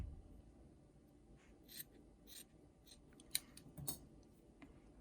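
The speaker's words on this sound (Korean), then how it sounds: "가위밥을 주면" Scissors snip cotton cloth while a filter-insert face mask is sewn by hand, a few quiet, close cuts spaced irregularly over a soft, steady background hiss.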